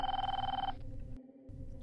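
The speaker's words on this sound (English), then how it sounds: "Or else, the phone will ring." A telephone rings with a fast electronic trill for under a second, then cuts off, leaving a low rumbling background hum.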